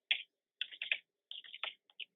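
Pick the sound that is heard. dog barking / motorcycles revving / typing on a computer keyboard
typing on a computer keyboard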